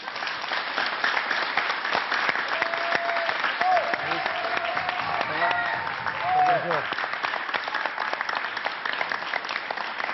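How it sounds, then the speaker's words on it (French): Audience applause for a comedian on a French stage in 1993, a steady, dense clapping that fills the whole stretch, with a few voices and whistles rising through it near the middle. "Jamal Debbouze, on l'applaudit encore."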